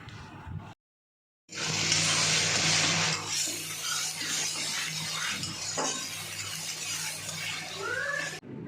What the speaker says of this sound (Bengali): এখন আমি এগুলো তেলের মধ্যে দিয়ে দেব এখন আমি এটাকে নাড়তে থাকব